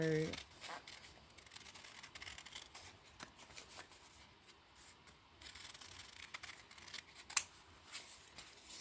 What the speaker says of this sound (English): cut them out